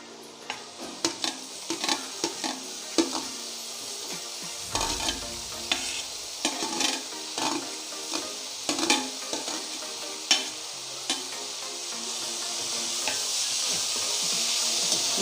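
Dried shrimp (jawla) stirred and fried in masala in a pan, sizzling hiss under repeated sharp scrapes and knocks of a spoon, close up, the sizzle swelling louder toward the end.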